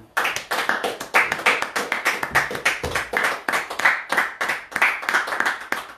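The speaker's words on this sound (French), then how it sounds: "Applaudissons pour Jésus." Church congregation clapping in a steady, rhythmic beat, loud and close, with sharp repeated hand claps filling the whole stretch and no talk over it.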